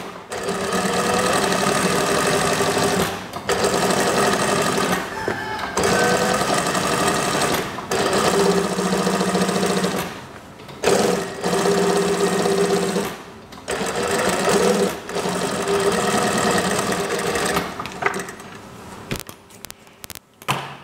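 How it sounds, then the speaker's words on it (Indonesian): A sewing machine runs in long steady bursts while stitching a regular-sleeve kimono house dress, loud and close, with brief pauses between seams. "Saya jahit seperti biasa, jahit dulu."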